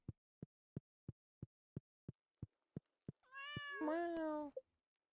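A cat in the farming game Stardew Valley gives one clear, drawn-out meow, preceded by a run of about ten soft, evenly spaced pops from the game.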